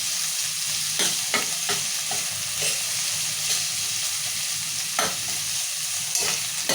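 Onions fry in hot oil for onion masala dal, a continuous close sizzle broken by occasional sharp stirring scrapes and clicks of a spoon against the pan.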